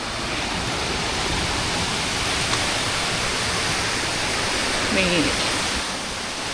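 Steady, dense rushing water fills the whole clip, a constant roar from the nearby Huai Kaeo waterfall in Chiang Mai, Thailand.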